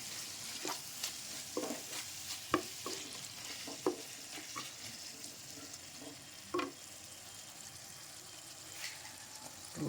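Bottle gourd and tomato curry with chili powder stirred in a pan: a soft background sizzle broken by scattered clinks and scrapes of a spoon against the pan, fairly quiet and close, no talk.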